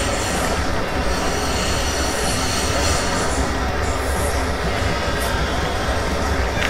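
Metro train cars rolling in Garry's Mod Metrostroi, a loud unbroken rumble from inside the car with wheel squeal and a light clickety-clack running steadily the whole time.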